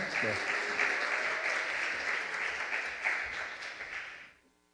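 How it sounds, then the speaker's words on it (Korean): A church congregation applauds to welcome a pastor to the pulpit, a dense, even wash of clapping with voices mixed in that carries for several seconds and then fades out quickly. "우리 박수로 목사님 모시겠습니다"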